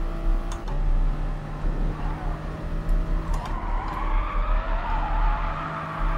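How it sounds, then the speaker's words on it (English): Tyres squeal in GT Sport during a daily race at Dragon Trail Seaside, the engine droning underneath as the car grazes a curb through the esses; sustained squeals rise and fade over several seconds. "you can hear the tyres squealing for mercy due to my poor line"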